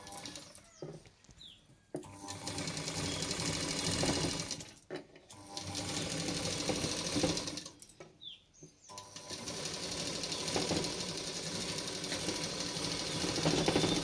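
A sewing machine stitches a silk pattu langa jacket in steady whirring bursts, with three short pauses between runs, close and fairly loud.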